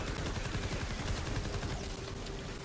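Grave Digger assault rifle fire in Fortnite Save the World rattles as dense rapid bursts that run almost without a break, with a loud, heavy low-end rumble under the shots.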